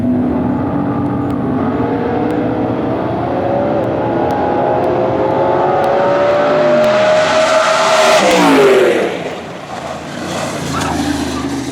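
A Nostalgia Pro Street Gremlin drag car racing at the NMCA World Finals, a loud engine roaring and climbing in pitch as it passes, then fading with rushing noise at the end.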